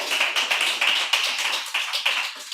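Steady applause from an audience, a dense patter of many hands clapping at once, continuing without voices on top.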